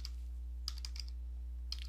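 Computer keyboard typing in a few quick clustered key clicks, close but soft, over a constant low electrical hum, with no talking.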